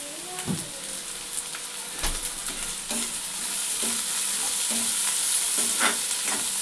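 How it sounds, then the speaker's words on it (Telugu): Dried fish frying with onions for a tamarind-leaf curry, continuous sizzling that grows fuller midway, punctuated by repeated scraping stirs in the pan. "ఈ ఎండు చేపలు కొంచెం ఫ్రై అయినట్టు ఈ ఉల్లిగడ్డతోనే ఫ్రై అవుతుంది"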